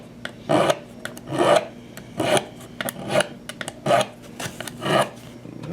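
Fret ends on a Leo Jaymz guitar kit are worked with a file in steady rhythmic rasping strokes, about eight close scrapes in a row with short pauses between.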